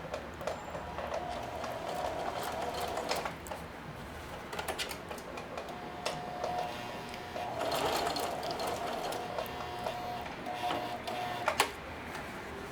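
A sewing machine runs a straight stitch through a thick, quadruple-folded denim apron, a steady mechanical whir with rapid needle clatter that pauses briefly and picks up again, close and fairly loud, with no talking.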